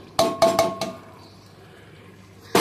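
Chicken meat tipped into a pan of spice mix, a few sharp clanks and scrapes of metal on the pan in quick succession, then a brief quiet and another clatter, close by.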